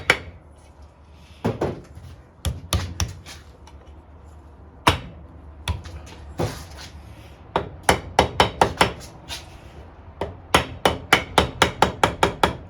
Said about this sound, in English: That's just a bit tight on a dowel, that's why I'm just tapping that.